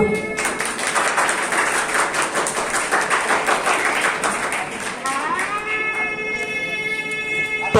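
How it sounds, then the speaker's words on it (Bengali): An audience claps together at an annual cultural function in Bengal, a steady patter of many hands that fades out as a sustained, rising tonal sound takes over near the end. "একটু জোরে করতালি হোক।"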